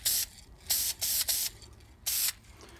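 Testors dull coat sprayed from a can onto a model railroad freight car, four short, sharp aerosol hisses in quick bursts with brief pauses, close and loud.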